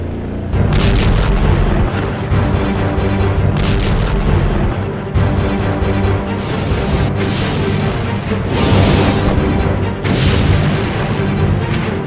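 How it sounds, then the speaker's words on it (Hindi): War footage of a missile launch and explosions, with repeated heavy booms and rumbling blasts layered over a dense, loud roar that persists throughout, with no speech. "इजराइल पर पहली मिसाइल लॉन्च।"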